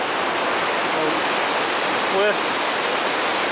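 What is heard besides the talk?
river waterfall rushing in the Porcupine Mountains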